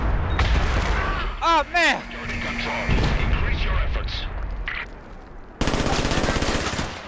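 Gunfire and a grenade blast in a Batman: Arkham Origins online multiplayer match at Blackgate Prison, loud bursts of shots and a booming impact mixed with shouting voices and game effects.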